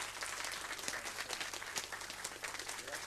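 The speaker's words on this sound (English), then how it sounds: "Everyone, please, a big hand of applause for John." An audience at a FOSDEM conference talk claps and applauds steadily throughout, a dense wash of many hands in a hall, moderately distant.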